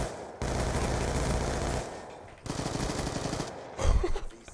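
Sustained automatic gunfire from Call of Duty gameplay, dense loud bursts in two long strings with a brief gap, ending in a heavier blast.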